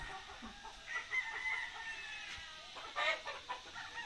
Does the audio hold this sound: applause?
no